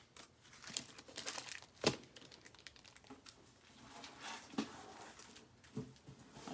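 Pearl paper for a cut and emboss crafting project crinkles faintly in a quiet indoor room, with soft rustles and a few sharper crackles spread over several seconds.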